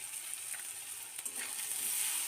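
Salt and turmeric frying in oil in a pan for betho saag, a steady close hiss and sizzle running unbroken throughout, growing slightly louder toward the end, with no voices.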